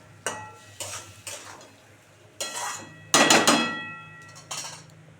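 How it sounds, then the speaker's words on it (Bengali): A spatula stirs spice paste as it fries in a metal pan for a country chicken, egg and pointed gourd curry: a series of sharp clanks and scrapes, several in quick bursts, over a faint sizzle with no talk. "দিয়ে এবার এটাকে সুন্দর করে কষাতে হবে, ভালো করে, যতক্ষণ না তেল ছাড়ছে খুব ভালো করে কষাতে হবে।"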